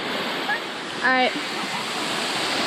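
Steady broadband rush of Spruce Flats waterfall near Tremont, falling water roaring continuously throughout, with a brief spoken word over it.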